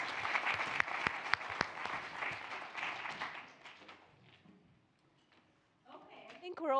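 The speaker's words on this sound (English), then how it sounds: "Give them a big round of applause." Audience applause for speakers at a brain health summit, loud dense clapping with a few sharp near claps that thins out and fades to near silence, followed by someone speaking.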